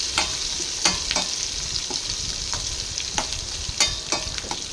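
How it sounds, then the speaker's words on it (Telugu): Onions and curry leaves fry in a steel kadai with a steady close sizzle, while a spoon scrapes and clinks against the pan in irregular stirring strokes, with no talking. "కరివేపాకు వేసుకొని కలుపుకోవాలి."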